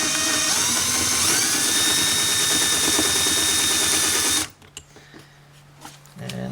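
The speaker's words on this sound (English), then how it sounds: "They recommend that you start drilling in reverse when you're going through the paint and the gel coat on this fiberglass." A power drill runs in reverse against the gel coat of a Yamaha FXHO WaveRunner's fiberglass hull, a loud steady whirring grind whose pitch slides upward, then cuts off abruptly into quiet handling noises.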